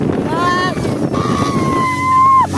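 Close, loud rushing of a speedboat cutting through water, engine and wind noise blended into a continuous roar, with a voice heard briefly over it.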